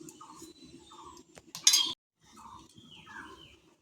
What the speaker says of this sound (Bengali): এবার কিন্তু ঢাকনাটা তুলে নিয়ে নামিয়ে নিচ্ছি